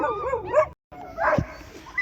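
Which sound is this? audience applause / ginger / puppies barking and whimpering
puppies barking and whimpering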